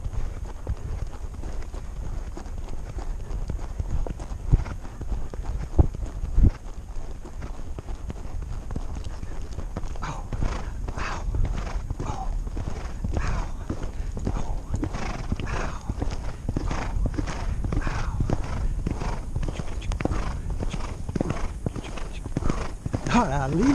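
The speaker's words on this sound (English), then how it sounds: "He's a wild bucking pony." A wild bucking pony's hooves clip-clop in a fast, rhythmic gallop that grows stronger midway, with neighing and people talking and cheering over it.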